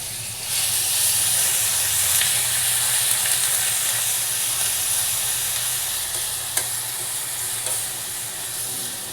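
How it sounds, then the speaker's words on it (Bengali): Garlic hits hot oil in a pan for bread chops, setting off a loud, close, sustained sizzle with crackling and a few sharp stirring clicks, continuing steadily without any talk. "এবার তেলের মধ্যে আমি একটু রসুন দিয়ে দেবো।"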